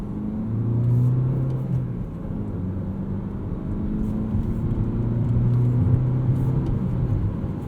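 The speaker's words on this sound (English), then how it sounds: "Find myself pretty much going full throttle through every gear." A 2019 Toyota Corolla XSE hatchback with a 6-speed manual pulls hard under full throttle, its engine a steady, loud rumbling drone heard from inside the cabin, with rising tones as it climbs through the gears.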